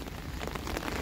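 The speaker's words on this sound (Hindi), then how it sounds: "बारिश काफ़ी ज़्यादा तेज़ हो चुकी थी इसलिए अम्ब्रेला खोलना पड़ा।" Heavy rain falling in Oxford, a steady dense hiss of drops striking surfaces and an umbrella overhead, loud and continuous with no voices.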